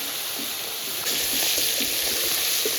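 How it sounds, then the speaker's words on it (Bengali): Shrimp frying lightly in hot oil, a steady close sizzle that swells a little louder partway through with soft crackles throughout. "চিংড়ি মাছগুলো ভেজে নেব"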